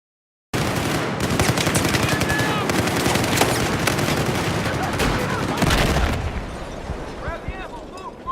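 Heavy machine gun fire from the Battlefield 4 video game rattles in dense, rapid bursts mixed with explosions, loud and continuous for several seconds before easing into quieter battlefield noise as a voice speaks.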